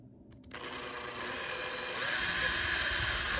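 A small drill whirs steadily into a model ship's hull for gunports, its high whine rising slightly in pitch as it runs continuously, close and fairly loud.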